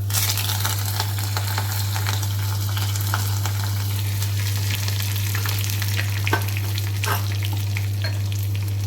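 Green chilies and curry leaves sizzle loudly in hot tempering oil for ringan bateka, a constant close frying hiss with occasional crackles and faint stirring clicks, alone without talk.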